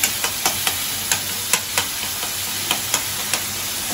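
Tomatoes fry in hot oil on a medium flame, giving a steady sizzle broken by regular clinks of a spoon stirring the pan, close and fairly loud with no talking.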